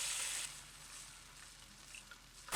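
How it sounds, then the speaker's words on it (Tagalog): Garlic and onion sautéing in a pan for a Filipino hamonado sauce, a steady soft sizzle with faint crackles, louder at the very start and end, with no talking. "maggisa tayo ng bawang at sibuyas"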